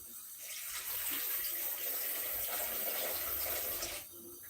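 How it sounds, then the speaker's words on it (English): Chicken broth pours into a pan for fried rice with a steady, close splashing stream of about three seconds that stops cleanly. "I'm going to pour in my chicken broth."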